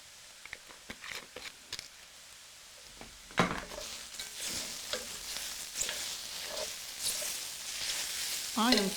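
Shiitake mushrooms stir-fry in a pan for a vegan dish, with a steady sizzle that swells loudly midway and scattered clinks and scrapes of a utensil stirring against the pan.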